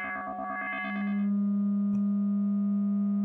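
NoiseSpace soundscape plugin with its gating turned up, a short burst of rapid gated, stuttering electronic pulses that settles into a steady, buzzy sustained drone with a faint click in the middle.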